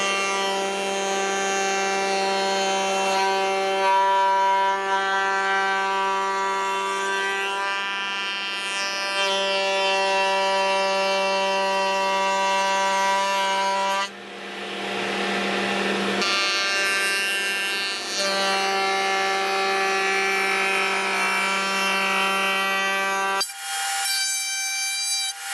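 A handheld router bit follows the contour of a wooden presentation plaque, a loud steady high-pitched whine with strong tonal harmonics running continuously, a brief dip in the middle, then ending abruptly.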